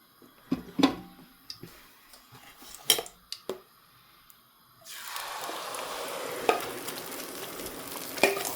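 Light clinks of utensils in a pan come first. Then milk powder peda batter hits hot ghee, and a sudden broad, steady sizzle takes over with occasional metal taps. No one speaks over it.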